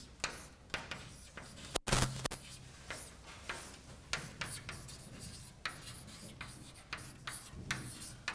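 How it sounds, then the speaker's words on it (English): A lecturer writes on a board during a talk on invariant measures for quantum trajectories, producing quiet irregular taps and scratchy strokes in short bursts, faint and close, with no speech. "I'm going to write this one here"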